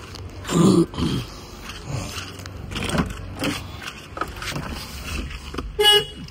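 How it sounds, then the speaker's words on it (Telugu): Several short, loud horn toots from a Maruti Alto K10 sound close by, separated by pauses, over a quiet outdoor background. "horn working"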